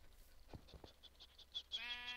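Sheep bleating in Minecraft, several short, faint, evenly spaced calls, followed by a brief harmonic bleat near the end, with no talk over them.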